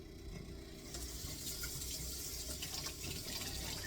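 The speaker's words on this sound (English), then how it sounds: "I'm just going to rinse it off." Frozen wild salmon is rinsed under a running kitchen tap, a steady close rush of water that gently shifts in tone as the fish moves through the stream.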